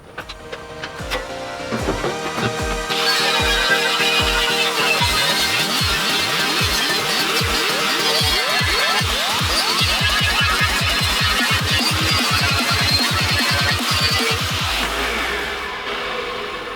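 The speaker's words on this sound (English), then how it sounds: "What I was using there is a Scotch-Brite wheel, so it will take everything off the metal" A Scotch-Brite wheel on a power tool scrubs the metal of a BMW exhaust after welding, a loud continuous whine with pitch sweeping up and down as pressure changes, steady throughout and alone without talk.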